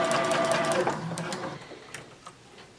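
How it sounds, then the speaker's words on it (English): A sewing machine stitches two fabric pieces of a women's surgical cap together, running loud and close at first, then slowing and fading to scattered light clicks as it nears the end of the seam. "I'm just finishing sewing the A piece to the B piece, getting right to the end here."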